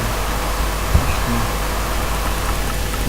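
Constant hiss of rain in the Minecraft video game, an even, full wash of noise with a single soft thump early on.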